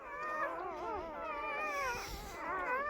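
A litter of eight newborn puppies whimpers and squeals close up in overlapping, wavering high cries, with no talking.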